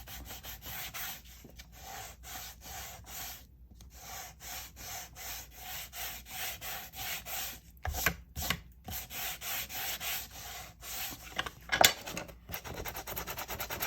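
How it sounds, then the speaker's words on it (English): A hand sander scuffs a surface in quick, regular back-and-forth rubbing strokes, close and steady throughout, growing rougher with a few knocks toward the end, with no talk. "I'm going to take my sander and I'm going to sand all of this to scuff it up"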